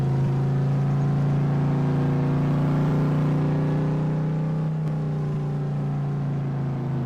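A vehicle engine in Farming Simulator 22 drones steadily and loudly at a low, constant pitch while driving on a gravel road, close and unbroken, with no talking over it.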